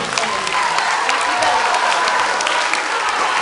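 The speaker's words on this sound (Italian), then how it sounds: "fatevi un grosso applauso" A school audience at an end-of-year middle school concert claps steadily in sustained, dense applause with scattered cheers, loud and continuous throughout.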